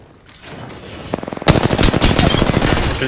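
Automatic weapon fire in the Apex Legends battle royale game: a brief ripple of shots, then sustained loud rapid bursts filling the rest, with no talk over it.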